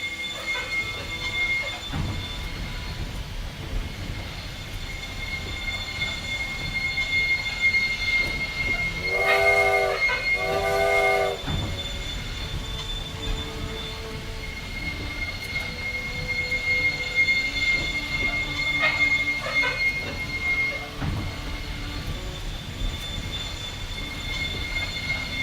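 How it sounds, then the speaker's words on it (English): Train running on rails in the video game Railway Empire 2: a steady rumbling roll of wheels on track throughout, with shrill wheel squeal and a brief horn-like tonal blast midway, loud and continuous with no talking. "Yes, we can actually ride along on the trains now."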